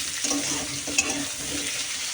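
Onions fry in a pan with a continuous, moderately loud hiss and soft crackle, mixed with gentle stirring scrapes and a single small clink, with no voices.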